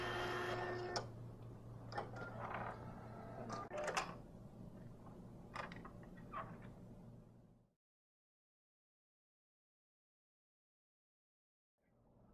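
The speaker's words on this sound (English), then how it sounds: "print a sample card." A Datacard SD or CD series card printer prints a sample card with several seconds of clicking, whirring mechanical activity. It then stops abruptly, leaving silence.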